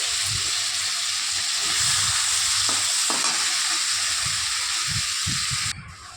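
Grated onion dropped into hot oil for a pointed gourd and prawn dish, a strong continuous hissing sizzle with soft stirring knocks, close and loud, easing slightly at the end.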